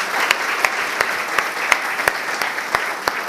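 Conference audience at a software agile summit in Athens gives steady, close applause, a dense wash of clapping with a few sharper individual claps standing out.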